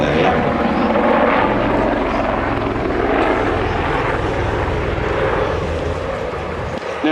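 Near and loud, a helicopter at the Biggin Hill airshow roars with a continuous rotor chop and engine whine as it flies a loop, the drone rising and falling slightly throughout.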